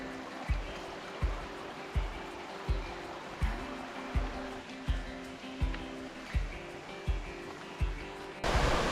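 A forest stream on the Tada Falls trail rushes steadily in a continuous broadband wash, with a regular thump about every half second, like footsteps, running through it.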